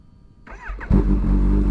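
A Kawasaki Ninja H2 motorcycle engine cranks and then catches with a sudden loud roar. It settles into a close, throaty, steady run.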